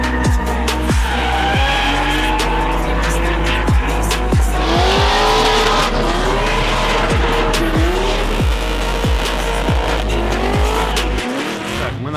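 A drift car at a drift track in Abu Dhabi squeals its tires loudly and continuously as the engine roars and revs, with rapid gear-shift bursts, close and dominant throughout.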